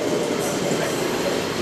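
Close rumble and hum of a Seibu 20000 series train, out of service, standing at a station platform, a steady mechanical roar without distinct clatter.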